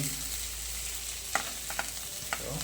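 Chili and chopped garlic frying in a pan give a steady close hiss and crackle, punctuated by a few soft scraping stirs.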